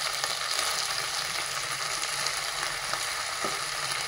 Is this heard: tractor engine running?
no